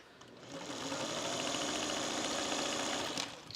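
Sewing machine stitching half square triangle quilt units, a fast steady mechanical whir that starts after a brief pause, runs evenly for about three seconds, then stops; close and clear with no talk.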